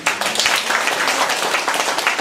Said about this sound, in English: When George holds this up, it means everybody must clap